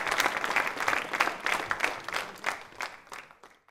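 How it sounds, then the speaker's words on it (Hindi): Lively audience applause at a hospital quiz show event, many hands clapping close and fairly loud with an uneven, rhythmic pulse that gradually thins out and fades toward the end. "तालियां जोरों से बजाइए सब"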